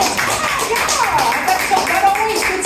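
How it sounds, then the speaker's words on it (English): An audience at a stand-up comedy show claps in response to a joke, with a steady spatter of applause running under a voice as she keeps talking. "That always gets a clap in America."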